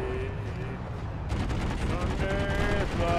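Video game gunfire in PlanetSide 2 strikes the player, a dense continuous rattle of shots with rising intensity partway through, loud and steady with tonal game sounds layered on top.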